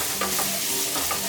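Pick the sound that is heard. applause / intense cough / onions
onions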